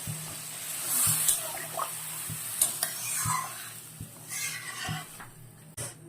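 Broth goes into a sizzling pan of fish curry with ash gourd, with repeated metallic stirring clinks and soft liquid splashes close by.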